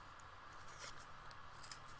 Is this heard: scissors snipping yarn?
yes